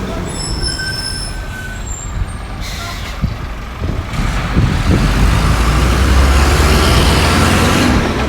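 Steady two-way road traffic on a street beside a busy market, with trucks and cars rumbling past close by, a hiss of air brakes and engine noise swelling louder toward the end.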